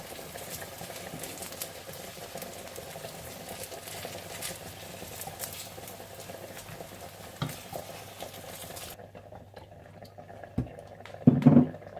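Eggplant slices frying in hot oil, a steady soft sizzle and patter for most of the stretch, then it drops away to quiet with a few louder clinks and scrapes near the end.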